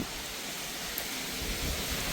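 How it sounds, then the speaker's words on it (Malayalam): Heavy rain pours down as a dense, even hiss that never lets up, with a low rumble underneath. It sounds close and fills the whole stretch, and no one talks. "ഇവിടെ നല്ല മഴയാണ്, പൊളി മഴ."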